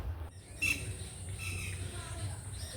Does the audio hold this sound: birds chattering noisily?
yes